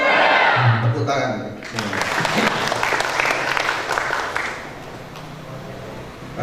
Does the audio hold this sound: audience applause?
yes